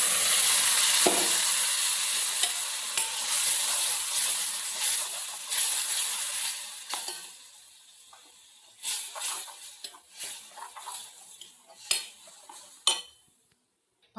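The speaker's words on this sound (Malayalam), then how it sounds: "ഈ ചമ്മന്തി അരച്ചത് ഒഴിച്ച് കൊടുക്കാം." Ground chutney hits a hot pan and sizzles loudly, a steady frying hiss that gradually dies down, broken by clinks and scrapes of a utensil stirring against the pan toward the end.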